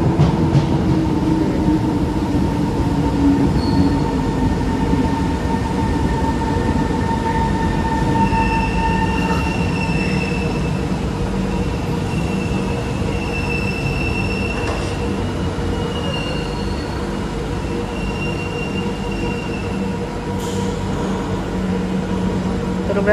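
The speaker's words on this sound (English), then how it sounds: "Dating na yung train papuntang airport" An airport-bound train rumbles steadily close by at Singapore's Changi Airport, with squealing wheels and faint metallic tones, a continuous loud roar as it pulls in.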